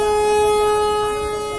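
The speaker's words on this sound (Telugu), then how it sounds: "మరి బయలుదేరదు ఇంకా, హార్న్ హార్న్ వేద్దాం" A loud, steady train horn from the mobile game Indian Train Sim 2023 sounds as one continuous sustained tone with a rich, layered harmonic chord, close and alone.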